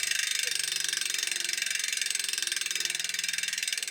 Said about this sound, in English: And in comparison, here's the sound of that 36 points.